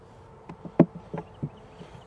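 Honey bees buzz around an open hive, heard as faint, scattered short buzzes of individual bees passing close over a low, steady background hum.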